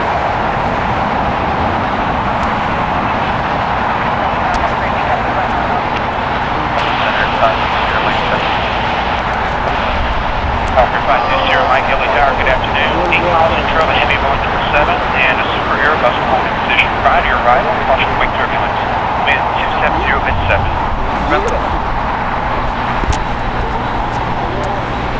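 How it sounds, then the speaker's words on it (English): An Austrian Airlines Boeing 777-200ER arriving from Vienna lands on the north side at LAX, its broad engine roar steady and loud throughout, with a busy airport and road traffic background. "Austrian Airlines coming in from Vienna, landing on the north side."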